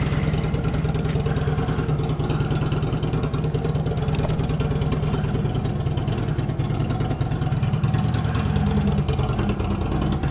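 A motorbike engine idles close by with a steady, rapid low-pitched putter that holds even throughout, no revving.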